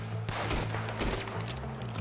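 Rapid gunfire in Red Dead Redemption 2, a dense, loud volley of overlapping shots and booming reports over a continuous low rumble, with no voices.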